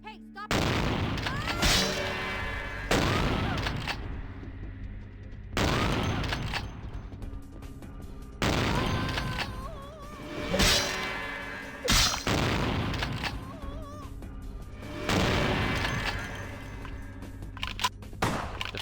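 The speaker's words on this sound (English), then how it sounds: "Now I have time to pull out the shotgun." Repeated loud booming shotgun blasts, about five or six spaced a couple of seconds apart, each with a sharp attack and ringing decay, in the vampire role-playing game Vampire: The Masquerade – Bloodlines, heard alone without talk.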